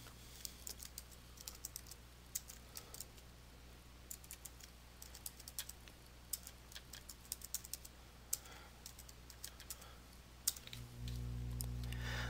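Typing on a computer keyboard while entering items into an Excel worksheet, with quiet, irregular clicks and key taps spread through the clip and a low hum at the end.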